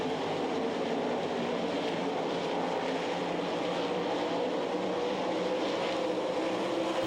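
Sprint cars race at Knoxville speedway during the Nationals, their engines blending into a steady, distant roar that holds at an even level throughout with no break.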